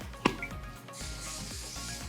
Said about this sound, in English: Oh, you can always hear a sizzle already.